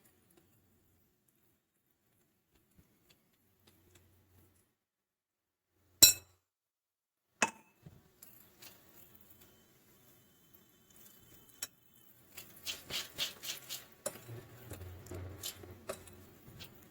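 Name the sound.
mixing molasses cherry cake batter with a fork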